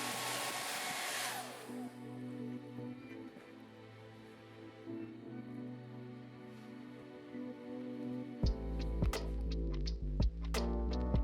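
A Mifen hair dryer blows with a steady, moderate whir during a bowl test. Sharp clattering knocks and thuds break in over the airflow during the last few seconds.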